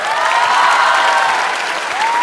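Loud, sustained applause from the audience at a live comedy show, a dense wash of clapping throughout.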